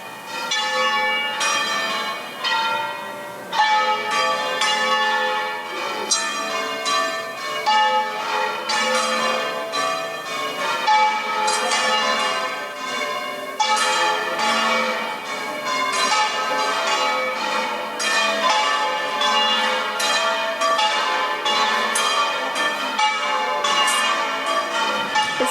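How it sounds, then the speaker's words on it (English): Church bells ring at Malaga cathedral on an evening, a loud sustained peal of overlapping bright strikes in irregular succession, ringing alone without voices for the whole stretch. "The bells."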